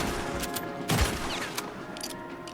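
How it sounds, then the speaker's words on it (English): Gunfire from soldiers shooting during a Red Dead Redemption 2 fight, a few scattered shots, one louder blast near the middle and fainter pops after, over a low game ambience. "Those are people shooting at you."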